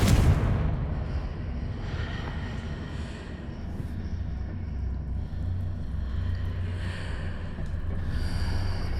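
A Confringo blasting spell detonates in Hogwarts Legacy with a sharp, heavy explosion at the start, followed by a steady rumbling roar that lingers loudly throughout.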